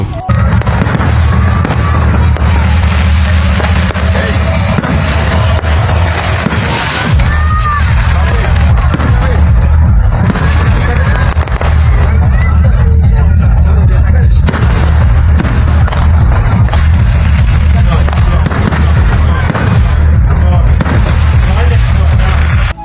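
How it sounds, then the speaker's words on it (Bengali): Fireworks set off outdoors for about an hour before a concert, a loud, dense, continuous barrage of booms and crackles with no pauses, the crowd murmuring underneath. "এখানে এক ঘন্টা ধরে বাজি ফোটানো হয়"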